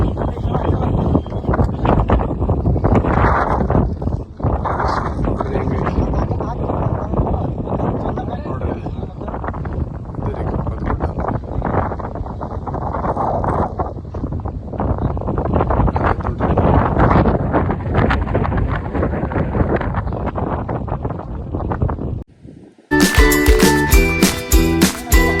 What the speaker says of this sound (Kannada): ಎಷ್ಟು ಚಂದ ಗಾಳಿ ಐತೆ